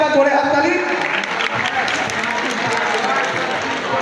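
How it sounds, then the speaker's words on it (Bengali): A crowd claps loudly and continuously at an honours ceremony for a volunteer organisation during a student-youth festival, a dense, even wash of applause with voices mixed in. "সবাই একটা জোরে হাততালি।"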